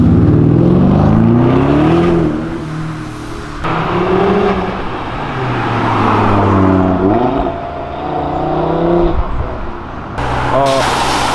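Car engine revving loudly past on a European avenue, rising and falling pitch sweeps from one or more passing cars, close and dominant, with people talking over it.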